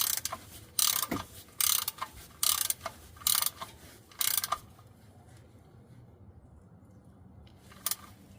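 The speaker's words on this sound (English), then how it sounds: "reinstall the drain plug. Torque it down to factory specification." A ratchet tightens the oil drain plug on a 2016 Nissan Versa Note with about six quick bursts of close, rapid clicking, then a quiet pause and one last short click.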